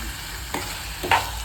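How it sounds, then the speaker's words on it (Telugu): Onions frying in a pan for a chilli boondi curry, a steady close sizzle with a couple of brief scrapes as they are stirred. "చూసారండి ఆనియన్స్ బాగా వేగుతాయి కదా"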